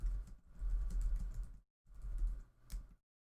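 Typing on a computer keyboard while writing a post in Google Classroom, heard as two bursts of quick, close key clicks separated by a short pause, with no speech.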